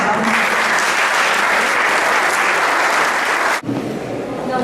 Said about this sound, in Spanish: Muchas gracias, un aplauso para los